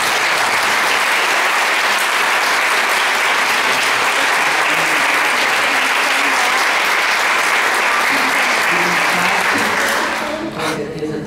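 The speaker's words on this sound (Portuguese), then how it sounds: "uma salva de palmas para ele" Audience applause for a violin student at a recital and certificate ceremony, dense loud clapping sustained for about ten seconds before fading out at the end.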